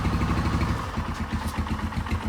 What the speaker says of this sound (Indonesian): Nah, kita dengarkan suara mesinnya.